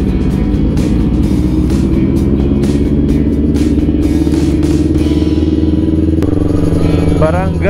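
A motorcycle engine drones loudly and steadily while riders travel a long rural road toward Barangay Balingkaging on a holiday ride in San Felipe, Zambales, with wind noise and a brief horn-like tone near the end.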